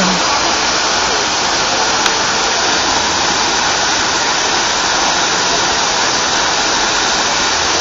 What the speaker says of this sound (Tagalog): para sa akin, napaganda pa rin po ng Hinulugang Taktak Falls